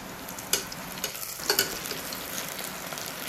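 Onions fry slowly in a pan for dahi chicken, a continuous close sizzle broken by a couple of sharp stirring clatters, with no voices.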